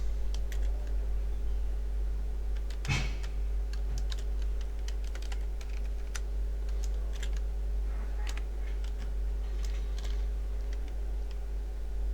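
Someone types on a computer keyboard, with irregular bursts of light key clicks and one sharper knock, close by over a steady low hum, with no talking.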